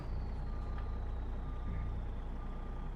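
Quiet, regularly repeating reversing beeps from a truck's backup sensor in American Truck Simulator sit faintly over a steady low engine drone.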